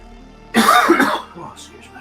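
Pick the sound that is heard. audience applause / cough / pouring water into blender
cough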